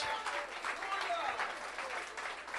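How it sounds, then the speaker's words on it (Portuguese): Sustained applause from a church congregation at a worship service, a steady wash of clapping that stays fairly even throughout with faint voices mixed in. "Aplauda ele nesta noite."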